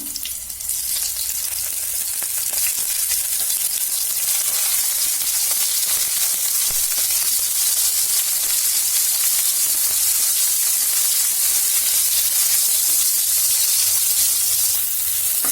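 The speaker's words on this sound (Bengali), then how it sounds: "বেগুনটা আমি ভেজে নেব। তেলের মধ্যে বেগুনগুলো ছেড়ে দিলাম।" Pieces of eggplant (brinjal) frying in hot oil, a strong, continuous hissing sizzle that swells right after they go in and then holds steady and close throughout.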